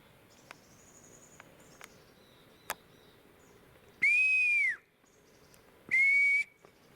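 Two loud, sharp whistles ring out outdoors, each about half a second long with a slight upward bend, separated by a short gap over a quiet background with faint scattered clicks and soft high chirps.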